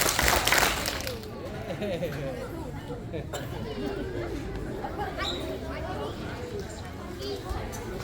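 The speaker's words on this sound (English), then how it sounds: "If you hear my voice clap twice, hear my voice clap 3 times." A short burst of audience clapping opens at a school Barrio Fiesta evening, then quickly gives way to steady crowd chatter and murmuring voices filling the room.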